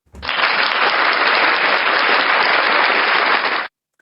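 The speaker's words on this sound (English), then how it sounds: "Wait, we clap for Irene." A canned applause sound effect bursts in loud and steady, a dense wash of clapping that holds evenly for about three and a half seconds before cutting off abruptly.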